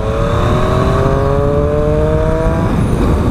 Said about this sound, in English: It's got this amazing engine, just listen to it.